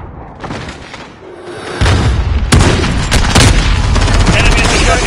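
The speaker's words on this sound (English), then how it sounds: "I'm taking fire." Heavy gunfire in Call of Duty Modern Warfare, with bursts of automatic shots and booming blasts that grow louder and denser after a quieter start, voices faintly mixed in.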